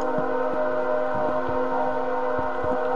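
Train passing near a house, a steady layered tonal drone with rhythmic low clunks of wheels over rail joints, continuous and fairly loud with no talking.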